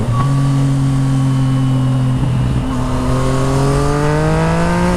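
A 2014 Yamaha MT09 motorcycle with a full Akrapovic exhaust accelerates hard and loud. Its engine note climbs steadily, breaks briefly at a gear change and then rises again, heard close from the rider's position.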